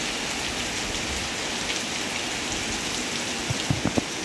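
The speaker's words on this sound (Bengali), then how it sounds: "এখন প্রায় দুপুর হয়ে গিয়েছে, বৃষ্টি হচ্ছে।" A steady downpour of heavy midday rain hisses over a house and garden, with a few close drip-like taps near the end and no talking.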